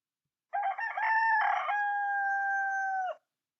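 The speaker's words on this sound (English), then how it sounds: "Cock-a-doodle-doo" One full cock-a-doodle-doo from a rooster, near and loud, opening with choppy notes and ending in a long steady drawn-out tone, heard alone in silence.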